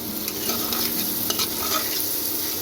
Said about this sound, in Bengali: আমি পেঁয়াজটা ভাজতে দিয়ে দিয়েছিলাম